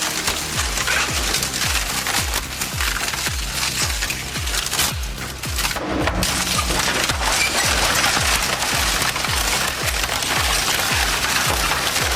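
A Weima Vampire wood chipper shredding wood, a steady, loud, rapid rhythmic chopping and crunching with dense splintering noise running continuously throughout, no voices.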